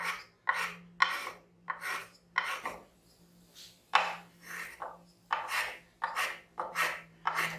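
A rasp file shapes a chamfer on a wooden marking gauge in a series of sharp, rhythmic strokes, each a short scraping burst with brief pauses between, close and clear.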